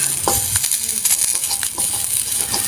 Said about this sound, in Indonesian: kita masukkan terasinya, kita lembutin pakai sendok ini, aduk-aduk